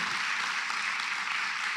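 A church congregation gives steady, faint applause as people rise to their feet, a soft continuous patter of many hands with no talking over it.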